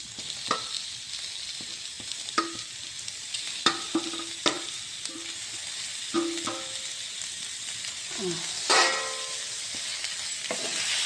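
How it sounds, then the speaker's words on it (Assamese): Steady sizzling of chicken frying with onions in a pan, with scattered clinks and scrapes of stirring throughout. "এতিয়া অকণমান পিঁয়াজখিনি ভাজি হোৱাৰ পিছত মই ইয়াতে মাংসখিনি দি দিছোঁ।"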